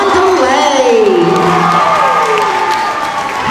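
Crowd at an elementary school award ceremony cheers and claps steadily for about three seconds, a dense, lively wash of applause with shouts and whoops mixed in.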